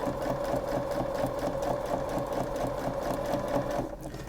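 A sewing machine runs steadily while stitching an invisible zipper into a seam, its fast even needle rhythm holding close and clear for several seconds before easing off at the end.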